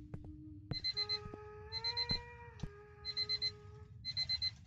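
In the ghost-hunting game Paranormal Investigators, an alarm clock rings in steady bursts of quick beeps, repeating about once a second. Sustained tones and a few knocks sound underneath.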